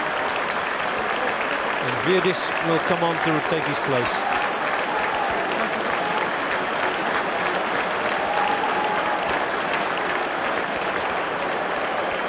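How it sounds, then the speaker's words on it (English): Stadium crowd at a European Cup semi-final football match between AC Milan and Real Madrid gives sustained, even applause for a substituted player, a broad wash of clapping filling the whole stretch while a commentator talks over it. "Sympathetic applause then for Ruud Gullit."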